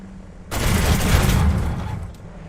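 Enemy tanks firing near an airfield in a flight-sim combat game, heard as a sudden loud burst of blasts that swells into a sustained rumbling barrage and then gradually fades, with no talk.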